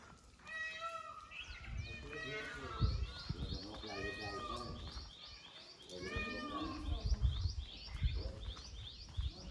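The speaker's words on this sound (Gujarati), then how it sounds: "જો તમે સાંભળે શકો મોર બોલે" Peacock calls ring out in a village setting around late morning, a few loud, wailing cries rising over steady talking and background birdsong.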